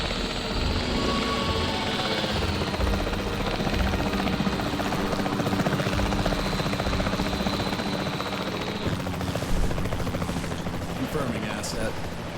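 Capture team helicopter in Jurassic World Evolution 3, sent to tranquilize an escaped dinosaur, its rotor drone holding steady and loud throughout, layered with dense gunfire-like crackle and a brief swell near the end.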